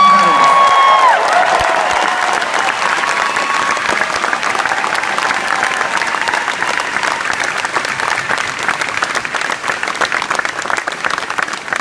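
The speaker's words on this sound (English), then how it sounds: "We owe them that applause" A large rally crowd applauds veterans with loud, sustained clapping that fills the space, mixed with scattered cheers and whoops after a voice trails off at the start.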